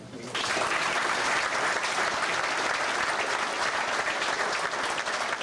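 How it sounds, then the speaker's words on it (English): Clapping erupts abruptly from a Little League banquet audience and continues as a thick, steady wash of many hands, loud and even for several seconds. "You can clap for that."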